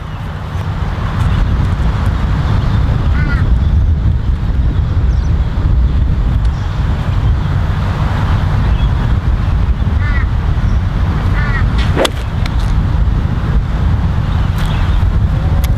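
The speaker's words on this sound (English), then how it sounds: "that wind is really strong" Strong wind of about 40 miles per hour roars steadily across a golf course, buffeting the microphone with a constant low rumble throughout.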